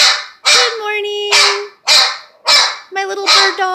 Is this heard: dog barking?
yes